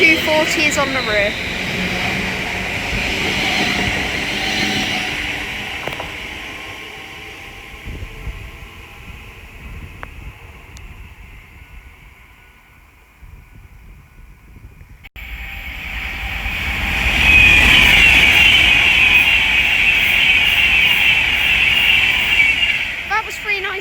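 A Class 390 Pendolino electric train running from London Euston to Birmingham New Street on the West Coast Main Line at Leighton Buzzard, rising to a loud, close rushing roar with a broad high whine as it passes, under a quieter lull.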